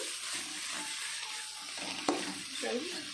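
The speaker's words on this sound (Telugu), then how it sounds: "వేసిన తర్వాత మళ్ళీ మొత్తం ఒకసారి కలిపేద్దాము" Sirikura greens with salt and turmeric are stirred in a frying pan, giving a steady low sizzle with scraping and one sharp clink partway through; a faint voice is heard near the end.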